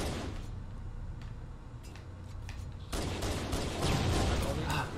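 Sniper rifle shots in a first-person shooter video game sound as several sharp cracks, followed by a loud, dense burst of game noise near the end.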